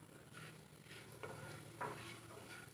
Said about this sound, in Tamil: எண்ணெய் நல்லா சூடானதும் நம்ம கிட்ட இருக்கிற மசாலா ஸ்பைசஸ்லாம் சேர்த்துக்கலாம்.